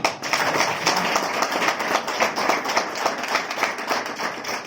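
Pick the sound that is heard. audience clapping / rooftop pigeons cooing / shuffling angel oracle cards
audience clapping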